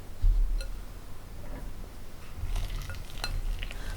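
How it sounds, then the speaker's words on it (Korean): White chocolate, softened in a microwave, is stirred in a bowl with a spatula, giving soft scraping and faint clinks against the bowl over a low background hum, with no talking. "전자레인지에 20초 간격으로 돌리면서 중간중간 섞어주세요."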